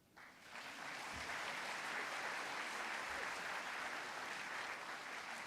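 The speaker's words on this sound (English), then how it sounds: "Correct time to clap, no?" Audience at a university convocation bursting into applause, rising quickly after a quiet start and then holding as full, sustained clapping from a large crowd, with no talking.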